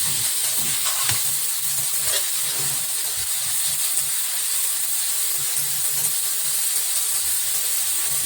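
About half a kilo of chopped onions fry in a pan, producing a continuous loud hissing sizzle with no talk and only faint occasional clicks.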